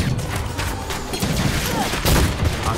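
Explosions and rapid-fire combat in the co-op action game Full Metal Furies form a dense, continuous barrage of blasts and crashes, with a heavier burst near the end.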